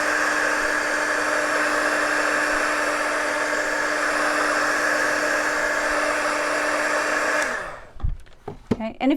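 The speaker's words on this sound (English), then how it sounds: "you can use a blow dryer" A hair dryer drying paint on a wooden birdhouse whirs steadily at close range with a constant high-pitched drone, then switches off near the end, leaving a few soft handling sounds.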